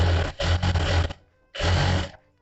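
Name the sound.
sewing machine stitching a princess cut blouse corner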